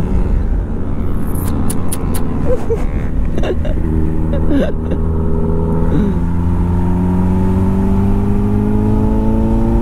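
An inline-four engine pulls hard from sixth gear on a highway, its steady drone rising in pitch as the vehicle accelerates, with constant road and wind roar underneath and no talking.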